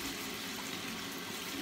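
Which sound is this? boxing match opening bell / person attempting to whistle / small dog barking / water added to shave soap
water added to shave soap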